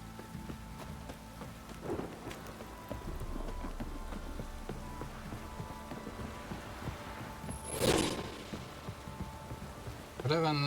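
Steady rain patters across a stretch of The Witcher 3, a soft continuous hiss with scattered drops, swelling briefly near the end with a louder burst and faint background voice-like sounds.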